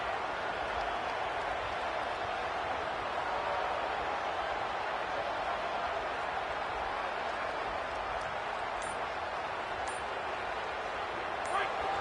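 Steady roar of a college football stadium crowd during a game, loud and continuous with no break, swelling slightly as the noise builds.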